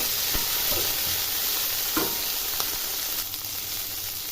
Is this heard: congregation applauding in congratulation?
no